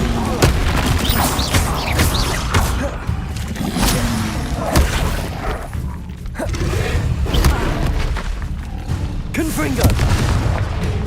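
Repeated Confringo blast spells cast in Hogwarts Legacy, booming explosive hits and whooshes recurring throughout, loud and near, with game effects and a voice over them.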